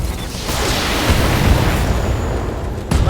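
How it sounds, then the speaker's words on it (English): A loud, rumbling explosion in the BattleTech mech video game, a dense low boom that fills the clip and swells again sharply near the end, with no talk over it. "Explosion. Enemy down."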